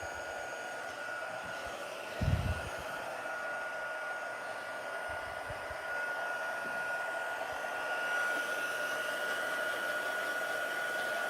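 An embossing heat gun blows a steady, loud hiss of hot air while heating embossing powder for a Christmas word collage, running continuously with a brief knock early on and no talk.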